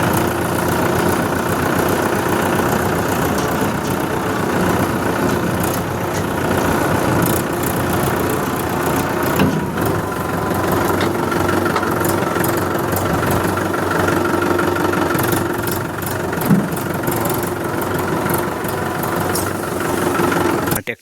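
A Swaraj 841 XM tractor's engine idles close by, a loud, steady, rumbling drone that keeps a constant pitch throughout with no talk.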